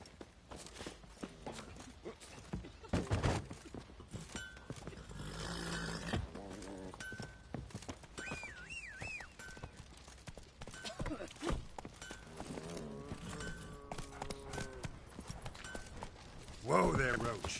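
Roach the horse from The Witcher 3: Wild Hunt trots and gallops with a steady, rhythmic clip-clop of hooves, close and prominent, while voices talk over the in-game ambience.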